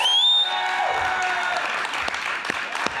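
An audience at a live show applauds actor Jeffrey Combs, sustained clapping from a crowd with a ringing electronic tone fading out at the start.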